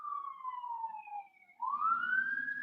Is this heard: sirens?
yes